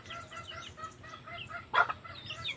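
Chickens at a backyard pig pen give soft, repeated clucks in a steady low murmur, with one louder burst of squawking partway through; no one speaks.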